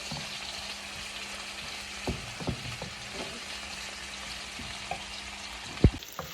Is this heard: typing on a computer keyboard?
no